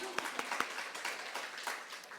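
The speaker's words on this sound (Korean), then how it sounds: "박수 한번 주실래요?" A church audience at a teachers' revival meeting gives a brief, faint round of applause, with loose, uneven claps sounding in a quiet hall.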